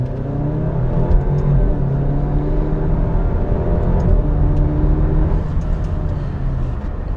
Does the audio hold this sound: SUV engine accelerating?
yes